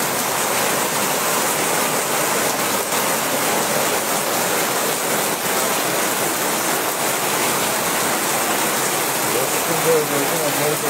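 Torrential rain pours down across Deganga, a loud, dense and unbroken hiss of a heavy downpour close by, steady throughout.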